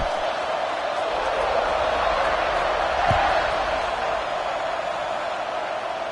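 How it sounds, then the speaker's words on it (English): A football stadium crowd keeps up a steady, far-off roar after a touchdown, with one dull thump partway through. "this crowd is buzzing after that last score"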